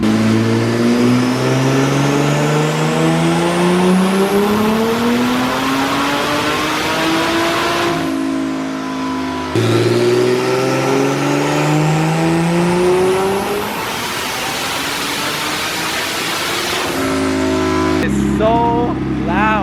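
Turbocharged BMW E46 M3 screaming through repeated full-throttle pulls on a dyno, each run a long rising wail that cuts off sharply, very loud and close with faint tire rubbing noise.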